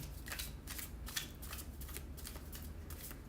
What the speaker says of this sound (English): I am shuffling the Almost Tarot deck by Liz Harrison